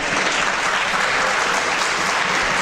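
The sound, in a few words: audience applause, Democrats clapping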